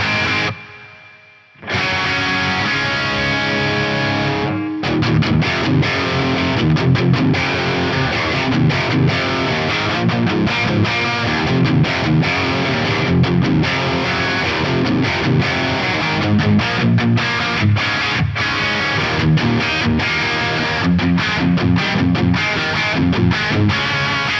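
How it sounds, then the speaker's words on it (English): Distorted electric guitar plays through a Yamaha REV 7 large hall reverb, leaving long, full decay tails behind the notes. After a brief pause near the start, dense, sustained playing runs on continuously with no talking. "This is the large hall reverb, and I've just basically dialed it in for guitar."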